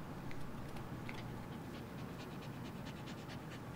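A small dog pants quickly and rhythmically at close range, a run of breathy huffs that carries on steadily without pause and with no talk over it.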